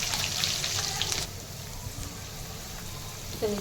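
Onion, garlic and green chili frying in oil with whole spices, a steady close hiss and crackle that is busier at first and then settles into a softer, even sizzle.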